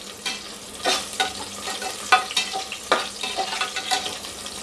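Bay leaf, cinnamon, star anise and green chillies fry in oil for chicken biryani, with a steady sizzle broken by repeated scraping strokes of a spoon stirring the pan, close and fairly loud.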